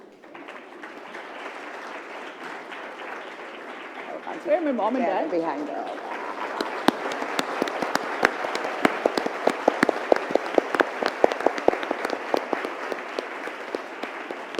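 Audience applause builds at a women's forum as someone's parents are honoured, starting under a low room murmur and brief talk, then swelling into sustained, crisp clapping with individual claps standing out near the front.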